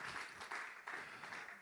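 Audience applause at an evening event, a soft, distant wash of many hands clapping in gentle swells, fairly faint and continuous.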